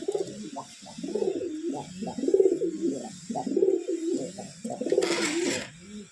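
Pigeons cooing repeatedly in a cage, a loud, close series of rolling low coos in rhythmic bursts, with a brief hiss of noise near the end.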